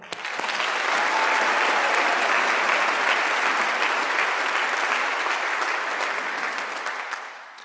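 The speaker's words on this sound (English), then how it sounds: "Can we please give another round of applause for the class of 2024?" A large audience at a medical and dental school graduation ceremony applauds the class of 2024, swelling quickly into broad, steady clapping that holds for several seconds before tapering slightly at the end.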